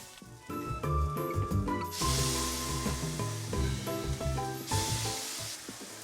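Marinade hits grilling jackfruit carne asada with a loud hissing sizzle that bursts in, fades, then flares again, all over tonal background music.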